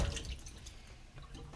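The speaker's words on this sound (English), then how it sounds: "now we want to rinse off any excess solution on the meat. So we're just going to use cold water and just give it a light scrub" Meat pieces from smoked ducks and buck rinsed under cold running water with a light scrub, giving close, dripping and splashing water sounds with a heavier splash at the start, no talk.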